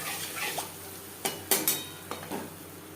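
Spice paste of mustard and poppy seed with turmeric and water is stirred in a pan for a hilsa fish curry. There is a low, steady sizzle and a few sharp scraping strokes near the middle.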